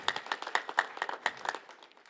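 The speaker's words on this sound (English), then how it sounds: "I would like to ask for a big clap for all the drama teams. Can we clap hard for them?" An audience at a job fair event bursts into applause for drama teams, a dense run of sharp hand claps with uneven peaks, fairly close and lively, with no talking over it.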